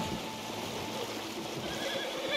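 A horse neighs in Red Dead Redemption 2 while standing in a flowing river, its whinny carried over a steady wash of running water, fairly close and with no talking.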